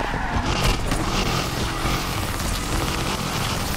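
A car drifts in Need for Speed Unbound with continuous engine roar and tire scrub, loud and unbroken for a few seconds.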